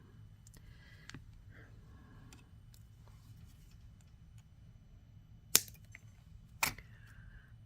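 Wire cutters snip jewelry wire during handmade link work, two sharp, close clicks, the second a few seconds after the first, over a quiet background with faint small handling taps.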